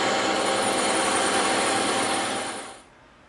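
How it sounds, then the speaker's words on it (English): Power saw with its table tilted making angled bevel cuts through EVA foam, a loud steady whine that holds for about two and a half seconds and then dies away quickly. "We're going to tip our table and we are going to make these cuts on"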